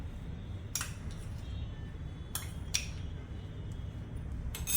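A spoon clinks and scrapes against a bowl as soaked semolina is mixed for a Sindhi sweet snack, a few sharp metallic taps spaced apart over a low background hum.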